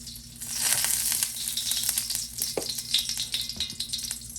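Olive oil sizzles in a hot pan ready for searing salmon, a loud close crackling hiss with a couple of sharp clinks and utensil knocks along the way.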